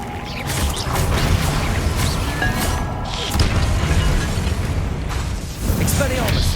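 A Confringo blasting spell erupts in Hogwarts Legacy, a loud sustained rumbling blast with crackling bursts that swell and recede over several seconds, with a voice speaking over it.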